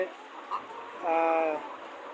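Caged layer hens on a poultry farm of about 2,500 birds cluck and squawk close by, with one drawn-out call standing out above the flock's background murmur.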